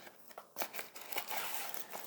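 Plastic packaging for a 4-in-1 USB cable being opened from the bottom during an unboxing, with soft crinkling, tearing and rustling in short bursts, faint and close.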